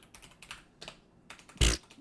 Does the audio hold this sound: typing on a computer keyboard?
yes